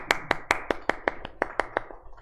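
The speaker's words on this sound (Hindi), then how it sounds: "ताली बजाओ जल्दी" Students in a classroom clap together at a teacher's request, about a dozen sharp, evenly spaced claps in a steady rhythm, fairly loud and close with a faint room wash between them.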